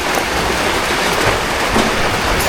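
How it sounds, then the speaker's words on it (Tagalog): Steady, dense rain hisses continuously, a close and fairly loud wash of drops with no pauses. "Ah, talagang ulan."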